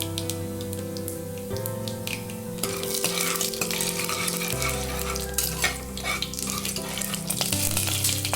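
Fennel seeds, urad dal and chana dal frying in hot oil: a loud, busy sizzle with scraping stirs against the pan, music playing beneath throughout.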